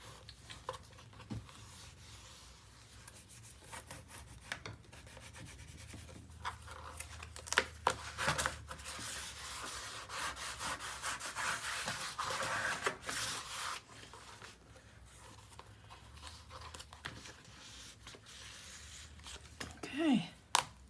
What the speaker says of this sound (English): let's give it a good old burnish